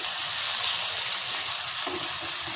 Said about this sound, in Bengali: খুব ভালো মাংস কষানো হয়ে গেছে।